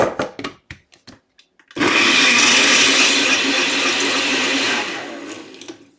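A few light knocks, then a blender roars loudly for about three seconds blending a green vegetable and herb smoothie with ice and water, whirring steadily before winding down.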